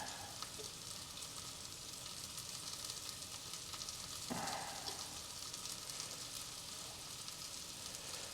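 Steak sizzles in a cast iron pan with a steady, fairly faint frying hiss and light crackle throughout, swelling briefly near the middle as something is moved or added.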